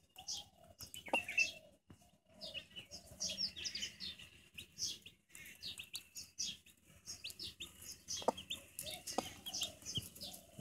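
Old, experienced mother hen clucking softly outdoors among her newly hatched pure white chicks, whose high, rapid peeping chirps run steadily throughout, with occasional louder calls close by.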